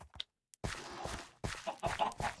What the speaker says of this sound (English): These are our two chicken jockey chickens.